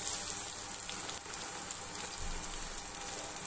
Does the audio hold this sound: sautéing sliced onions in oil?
yes